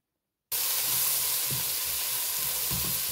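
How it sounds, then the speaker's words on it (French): Two leeks starting to cook in a pan, a dense, even sizzle rising suddenly from silence and holding steady up close, with a couple of faint low clunks from the pan and no voices. "Les 2 poireaux que je vais mettre à cuire."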